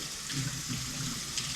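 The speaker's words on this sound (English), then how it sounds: "I'll leave my water running, and I apologize for the noise" Water runs from a kitchen tap during home bread making, a soft steady faint splash and trickle with a couple of brief louder spatters, no voices.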